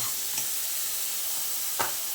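Four green chillies sizzle in hot oil in a pan, a steady broadband frying hiss throughout with two brief louder spits, including a sharp pop near the end; no talking.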